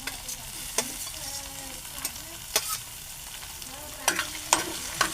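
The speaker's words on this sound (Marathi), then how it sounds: "तर आता मी हे ढवळून घेतो" A spoon stirs bitter gourd with lemon in a hot pan, sharp scraping strokes landing at irregular intervals over a soft, constant sizzle, close up and with no talking.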